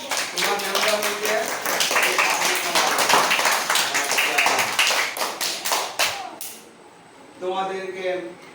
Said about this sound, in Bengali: ঠিক আছে, হাত তালি হবে।